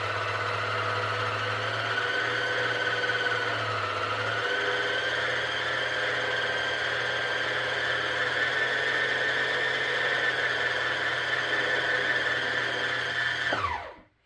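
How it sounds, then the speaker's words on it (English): A sewing machine winding a bobbin gives a steady, close high whir with a low motor hum beneath, running evenly for most of the stretch before spinning down and stopping abruptly; no one speaks. "And wind your bobbin."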